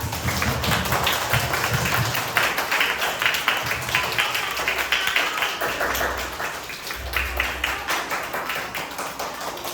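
Children in a Buddhist Sila lesson in Deli Serdang clap their hands together in a busy, uneven patter, with a few louder bursts and brief taps, fairly close and lasting the whole stretch.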